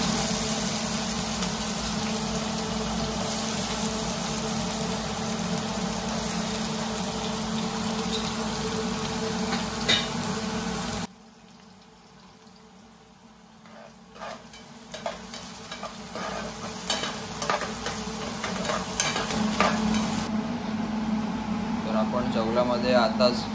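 Oil frying in a kadhai while jawla is prepared, a steady sizzle with scraping stirs that drops away briefly midway and then returns with clattering, under a person talking.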